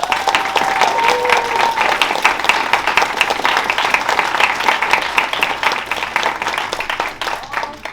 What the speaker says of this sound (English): So please, just another round of applause for all of us.